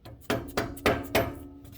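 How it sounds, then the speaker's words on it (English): Mallet blows on a socket extension driving a sway bar link bolt out of a 2004 Chevy Silverado 2500HD near the front axle: four sharp metallic taps, evenly spaced, close and fairly loud, with no talk. "mallet and a socket extension to tap this bolt out"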